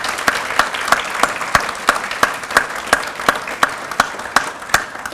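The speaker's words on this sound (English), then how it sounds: "How about a last round of applause for all 4 of our sharers?" Applause at a leadership award event, heard as evenly spaced sharp claps in a steady rhythm over a soft wash of crowd noise, fairly close and moderate in level.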